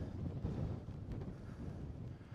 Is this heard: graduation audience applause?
no